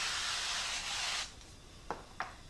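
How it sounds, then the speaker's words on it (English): Cooking spray is sprayed into a baking dish in one long, steady hiss lasting over a second, followed by two brief clicks or taps, with no talking. "I'm just gonna take some cooking spray and just spray along these sides and the bottom"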